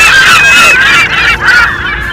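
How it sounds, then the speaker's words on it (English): Geese honk loudly and close by, several overlapping nasal honks in quick succession with no break. "Oh, birds, don't leave me."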